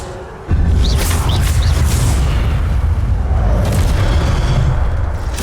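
Heavy magical spell effects from Hogwarts Legacy roar as a sustained, loud, booming rumble, with a sharp onset after a brief quieter lead-in and continuous blasts layered throughout.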